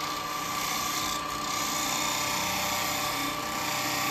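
Steady high-pitched mechanical whine of an SCH6 power carving chisel cutting into wet wood, droning evenly and close with a constant buzzing vibration underneath.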